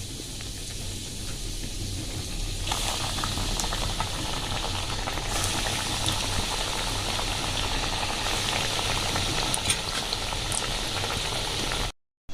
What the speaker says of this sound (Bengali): এবার তেলটা গরম হয়ে গেছে এগুলো ভেজে নেবো